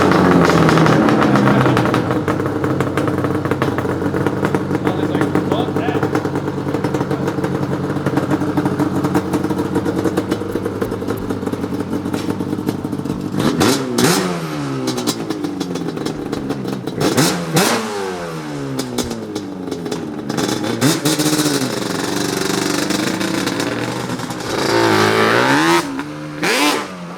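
Yamaha Banshee four-wheeler ridden in a field, its two-stroke engine loud and close, holding a steady high drone before repeated sharp revving surges rise and fall in the second half.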